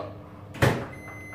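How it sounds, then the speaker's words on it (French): A kitchen microwave oven is started to thaw frozen vegetables: a single soft thump, then a steady electric hum with a faint high whine that carries on to the end. No talk. "Donc, au micro-ondes pour décongeler les légumes pendant 3 minutes."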